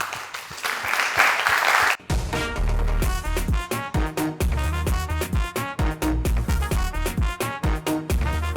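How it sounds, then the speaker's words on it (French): Studio audience at a talk show round table briefly applauding for about two seconds before rhythmic music with a strong beat takes over and continues. "On va applaudir ça tout de suite."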